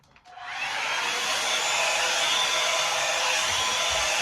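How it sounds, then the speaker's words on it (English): A handheld hair dryer blows on hair, starting after a brief click and settling into a loud, steady whooshing drone that continues alone. "It's blow drying my hair."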